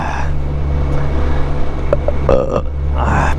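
A man belches once, low and drawn out, while seated on a 2002 BMW K1200GT motorcycle, over steady low engine or wind rumble.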